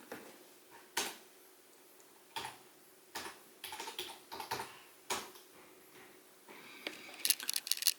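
Someone types msconfig on a computer keyboard, scattered individual keystrokes and short clusters of clicks, close and quiet in an otherwise still room, ending with a quicker flurry of light taps.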